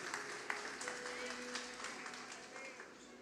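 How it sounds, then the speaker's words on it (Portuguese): Applause for a beloved sister in a church service, a steady wash of clapping from the congregation lasting throughout, fairly even in loudness with a few sharper claps standing out. "Está aqui uma salva de palmas para a nossa amada irmã"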